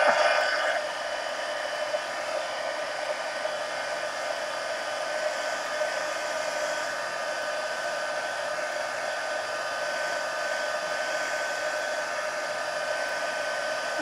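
A hair dryer runs continuously to dry paint drips on a mixed media art journal page, giving a steady, fairly close whooshing blow with no talk.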